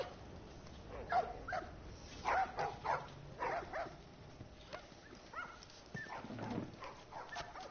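Several dogs bark, yip and whimper in short irregular bursts at moderate distance, mixed with faint background noise and no clear speech.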